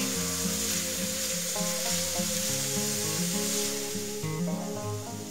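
Sliced zucchini frying in a hot pan, a steady close sizzle running throughout with stirring underneath, while music plays along with it.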